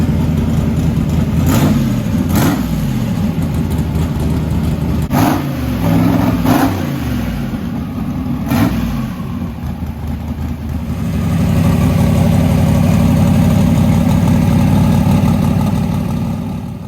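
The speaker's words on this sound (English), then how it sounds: "He finally got his S10 all back together and he's warming it up" A Chevrolet S10 truck engine warming up after being reassembled following head gasket work, revving up in several sharp bursts before settling into a steady, loud idle close by.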